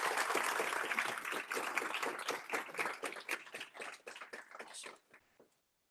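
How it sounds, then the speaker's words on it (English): Audience at a tech meetup on Apache Beam applauding a speaker: a close round of clapping that gradually thins into scattered individual claps before stopping. "Let's give Gleb another round of applause then, and I'll throw him in."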